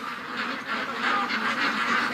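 Ducks crowded at one end of their pen in an uproar, a dense continuous mass of loud quacking and honking close by with no pauses.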